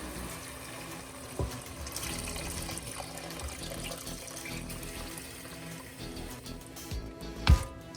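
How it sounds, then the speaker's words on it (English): Beef broth poured into a soup pot for French onion soup, a steady liquid pour and splash running continuously for several seconds, close and moderately loud, with a brief thump near the end. "what we're gonna do now is add our beef broth here"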